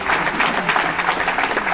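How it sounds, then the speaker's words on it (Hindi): Loud, steady audience applause from a crowd at a business seminar in Mumbai, dense clapping filling the whole moment without pause and with no speech over it. "एक बार जोरदार ताली दें"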